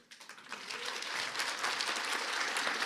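An audience at a charity concert breaks into a standing-ovation style applause for volunteer organisations, starting with scattered claps and swelling into dense, sustained clapping that stays fairly distant and even.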